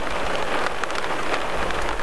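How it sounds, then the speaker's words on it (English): Steady rain patters on a surface, a dense, even hiss with scattered louder drops and no voices. "that rain's making it hard to see anything"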